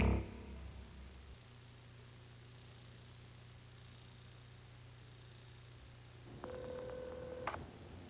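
After a low thud, a landline hums with faint hiss, then a single electronic telephone ring sounds near the end before an answering machine takes the call, with no voices.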